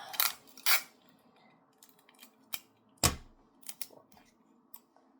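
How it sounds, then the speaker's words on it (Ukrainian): Adhesive tape being handled and pulled, heard as a few sharp ripping and crackling bursts separated by quieter handling noises, fairly close and with no talking. "Так, беремо скотч."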